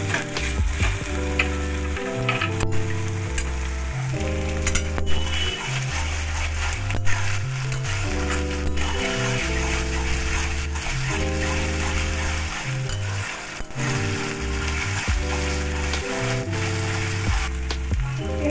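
Garlic, asafoetida and ginger paste fry in a pan for a pumpkin chicken dish, sending out a constant close sizzle beneath steady melodic background music, with no speech.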